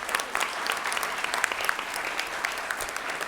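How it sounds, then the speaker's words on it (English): Audience applause for a middle school student at a Hampton City Schools board meeting, a steady wash of many hands clapping at moderate distance with no voices. "So let's give him a round of applause."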